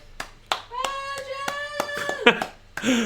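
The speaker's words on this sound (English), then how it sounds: "Round of applause for Joe, Nicola." Scattered, sparse claps from a small group at a live fan show, with a few sharp individual hand claps under tonal, squeaky creature-like noises and brief voices.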